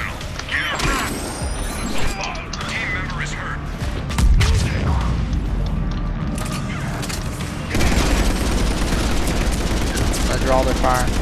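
Enemy gunfire in Mass Effect 3 multiplayer combat: dense, continuous shooting mixed with heavy booms and loud impacts, with players talking over the clatter throughout.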